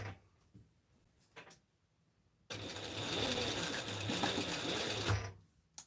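Sewing machine basting a seam in a single continuous run of about three seconds, a dense rapid whirring buzz close by, framed by quieter handling clicks before and after.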